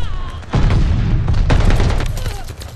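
Dense bursts of gunfire and booms from the Call of Duty Vanguard video game, loud and continuous with overlapping shots and blasts, with faint voice under the battle.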